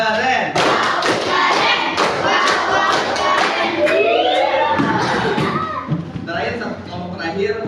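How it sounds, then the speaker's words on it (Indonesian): A classroom group claps on request in a rhythmic pattern, loud and close, with thumps and children's shouting mixed in and a voice speaking over it. "Kita beri tepuk keren"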